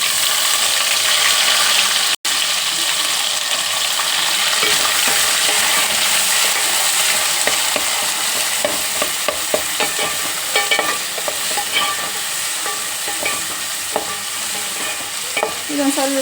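Chopped onion added to a pan with popping mustard seeds, sizzling loudly and continuously while a spoon scrapes and stirs in rapid, irregular strokes, with one abrupt break early on.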